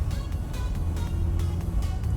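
A 2016 Mazda MX-5 Miata ND pulls in third gear, giving a close, steady, low engine drone with road rumble underneath.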